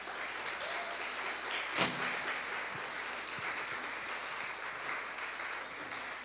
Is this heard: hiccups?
no